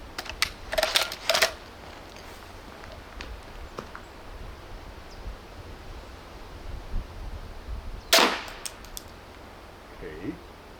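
A Saxon war bolt fired from a pistol crossbow slams into a Kevlar military helmet, giving a couple of sharp, loud impact cracks early on and another strong hit later, with quieter clicks and handling noise between.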